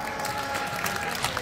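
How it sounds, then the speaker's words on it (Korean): Brief applause from the audience at a table tennis tournament's opening ceremony, a dense, steady patter of clapping filling the hall at moderate volume. "이럴 때만 꼭 크게 박수를 치시죠."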